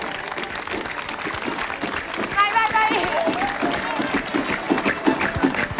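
Outdoor crowd clapping and cheering for a woman dancing the tarantella in Nusco, lively rhythmic applause with voices shouting encouragement over it.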